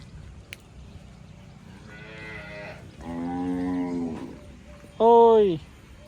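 Kankrej cows on a farm lowing in a few separate moos, the last one louder and closer, over a quiet background with a brief knock near the start.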